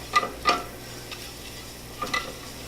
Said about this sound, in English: pan's hot, drop our butter in